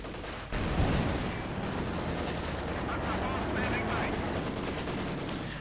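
A Maxim machine gun fires in the video game Company of Heroes 2, a loud, dense, sustained burst of gunfire packed with other battle noise, with commentary running over it.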